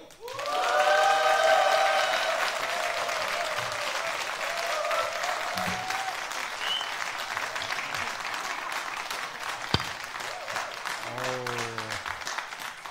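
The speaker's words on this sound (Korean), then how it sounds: "우리 선교사님이 한번 기절할 정도로 함성과 함께 박수!" A church congregation bursts into loud applause with cheering and shouts as a missionary preacher comes forward. The clapping stays dense and sustained throughout, with voices rising over it early on and fading slightly toward the end.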